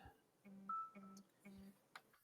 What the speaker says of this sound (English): Sorry, my phone rang. I got to turn that off.